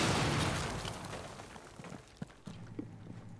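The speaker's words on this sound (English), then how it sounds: "Ash can use a standard breaching charge" A breaching charge detonates in Rainbow Six Siege, a loud broad blast at the start that fades into rumbling debris and a few small scattered knocks.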